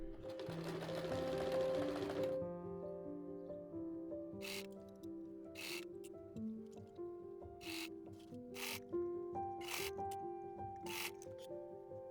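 A sewing machine closes the seams of a midi-length dress, running in quiet bursts of rapid needle clatter separated by short pauses, with soft rustling of fabric being handled.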